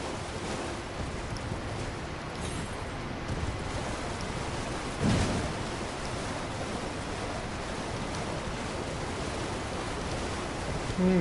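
Steady, dense rush of falling water at the base of a waterfall in Elden Ring: Shadow of the Erdtree, a constant full-band roar with one brief louder splash midway and no voices.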